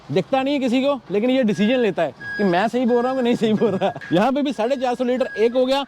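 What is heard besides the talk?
truck reversing beeps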